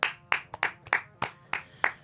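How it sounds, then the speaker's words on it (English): Slow, deliberate hand claps ring out alone, eight sharp claps spaced about a third of a second apart, fairly close and loud. "Slow clap."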